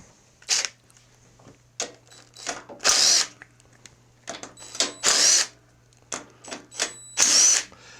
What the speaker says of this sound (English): Let's get our little impact gun, 3/8 socket.